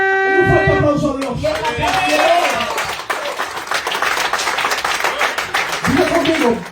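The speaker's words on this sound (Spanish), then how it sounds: "Un fuerte aplauso a Dios." Applause from a church congregation during an evangelistic service, steady dense clapping across the clip with a crowd wash under music-like tones and a preacher's voice early and late.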